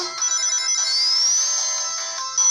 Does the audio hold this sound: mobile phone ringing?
yes